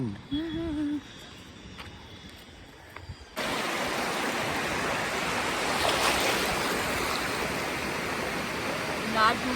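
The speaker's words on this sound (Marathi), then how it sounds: "लाटा मोठ्या मोठ्या यायला लागल्या होत्या" Rushing surf noise of big sea waves on the Ratnagiri coast swells in after a brief quieter stretch with faint voices, then roars on continuously as broad, loud crashing waves.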